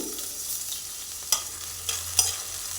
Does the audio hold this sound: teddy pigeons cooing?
no